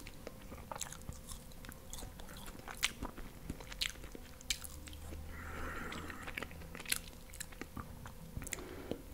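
Fried potato from Peruvian lomo saltado is bitten and chewed up close, with soft crunches, wet squishes and irregular mouth clicks at low volume and no speech.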